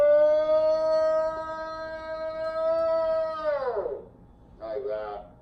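A human voice imitates a long, mournful Bigfoot "Ohio howl", holding one steady siren-like tone for several seconds before sliding down, then giving a short second wail.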